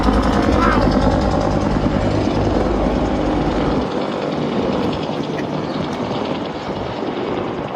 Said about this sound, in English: There goes the helicopter that I flew on already.